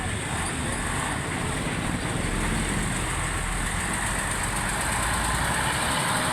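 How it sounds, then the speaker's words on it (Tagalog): An old bus engine labors uphill on a bypass road, a steady loud droning rumble that holds throughout, with people talking faintly over it. "Yung mga sinaunang bus yan ay. Sinaunang bus."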